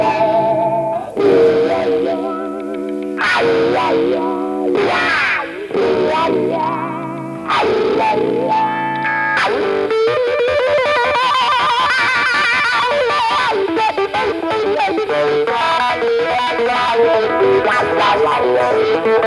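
Rockabilly electric guitar in the Brian Setzer style, played through a wah-wah pedal to imitate a pedal steel. Loud, distorted, sliding and bending notes come in short phrases, then a denser run of sustained, warbling notes.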